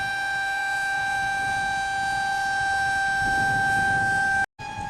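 A steady, loud dam warning siren wail holds a constant pitch for several seconds, cutting out abruptly near the end before briefly resuming, with water rumble underneath as more water is released at Conowingo Dam.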